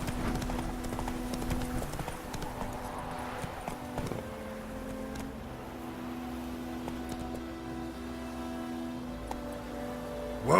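Hooves of Roach, a horse in The Witcher 3 game, clip-clop steadily under a droning in-game background hum, making a continuous close rhythmic trot.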